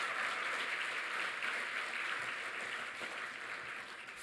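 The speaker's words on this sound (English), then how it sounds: "I think we should give them a round of applause" An audience at an Employee of the Year awards event gives the first eight candidates a sustained round of applause, dense even clapping that tapers slightly toward the end.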